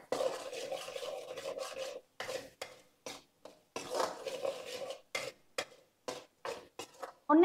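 Flour and vegetables for pasta are sautéed in a pan, heard as repeated soft scraping and rasping strokes of a spatula, steady at first and then in short separated bursts, fairly quiet and without speech.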